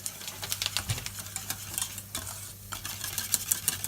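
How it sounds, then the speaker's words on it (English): Thick mac and cheese sauce made with milk and Himalayan salt, stirred in a pan, giving close, busy scraping and clicking strokes over a faint bubbling sizzle, with no voices. "And just give that a mix."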